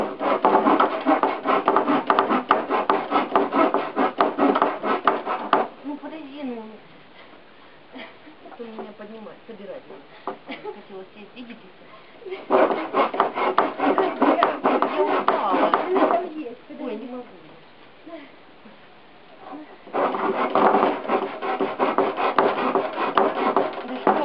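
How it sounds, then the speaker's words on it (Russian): Rhythmic rasping of a blunt hand saw cutting through wood, in two loud bursts of steady strokes with quieter scraping between them. "пила тупая. Как я пилю?"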